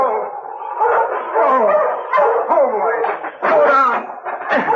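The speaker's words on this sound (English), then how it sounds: "He barked a warning to his master when he saw the team heading toward them." A sled dog on a snowy trail barks repeatedly and loudly up close in an old radio drama, the harsh barks and yelps coming in quick bursts with no pause.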